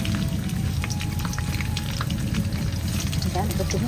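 Food sizzles and crackles in a hot oiled pan in a home kitchen, with a dense, continuous, close-up hiss and occasional stirring sounds.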